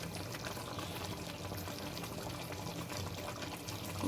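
Mutton curry simmers in a covered pot, giving a faint, steady bubbling hiss that continues unbroken throughout with no talking.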